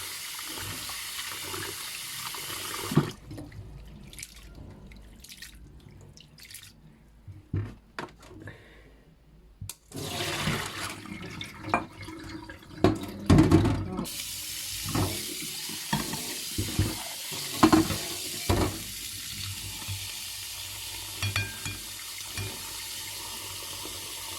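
River snails being washed by hand in water, with sloshing, swirling and rattling that comes in loud close bursts between quieter stretches of dripping and stirring.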